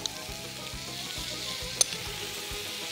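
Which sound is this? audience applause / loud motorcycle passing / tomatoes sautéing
tomatoes sautéing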